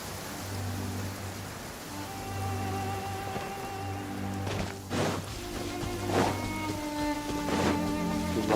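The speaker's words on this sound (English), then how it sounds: "When did it start to rain?" Rain patters steadily in the video game Genshin Impact, a constant wash under layered game music with a few sharper thuds and impacts toward the end.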